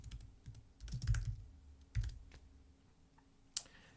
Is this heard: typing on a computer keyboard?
yes